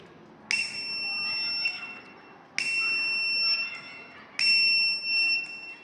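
A homemade fire alarm built from an IR sensor, jumper wires, a battery and a buzzer sounds three sustained piercing electronic beeps, each about a second long and separated by pauses, over faint background noise.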